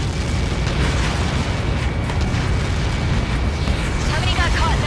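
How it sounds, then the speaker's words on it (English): A loud, sustained explosion impact in an aircraft combat video game mission, a dense continuous roar of booming rumble and debris filling the whole stretch, with faint radio-style voices under it. "How many got caught in that explosion?"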